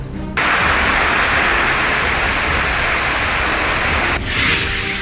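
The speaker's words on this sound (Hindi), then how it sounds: "बारिश ने थामी रफ्तार।" Heavy monsoon rain in Mumbai pours down as a dense, unbroken hiss that starts abruptly, holds steady and loud for about four seconds, then cuts off sharply.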